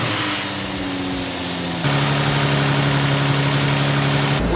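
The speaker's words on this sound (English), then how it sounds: "we want to go ahead and turn on the engine" An Infiniti G35 coupe engine idles steadily with the heater and fan running while the cooling system is bled, giving a continuous close, low hum that gets a little louder partway through.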